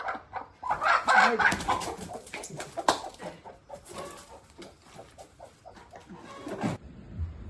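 Hens of a blue-egg-laying chicken breed cluck and squawk in a close, busy farmyard chorus from a coop in Hatay, Turkey, with overlapping calls and bursts throughout and no talk.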